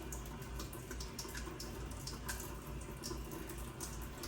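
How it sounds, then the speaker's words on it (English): Tap running steadily into a sink while hands are scrubbed during a nursing handwashing demonstration: a continuous close hiss of flowing water with faint splashes, and no talking. "Next is to rub the palm with the fingers interlaced 5 times also."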